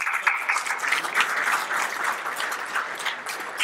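Crowd applause fills a large room at a teachers' summer workshop welcome session, a dense steady wash of many hands clapping at moderate volume, with no talk over it.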